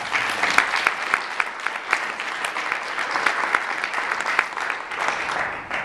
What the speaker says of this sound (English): So I want to offer a round of applause.